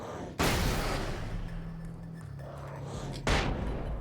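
Two sharp, loud bangs of a flashbang grenade in a video game, one early and one near the end, each a sudden broadband burst with a lingering ringing hum between them.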